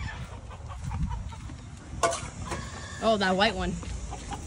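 Chickens in a crowded poultry pen, including Silkies, give off clucks and squawks, with one loud rising call standing out, mixed with steady coop background noise while people talk nearby.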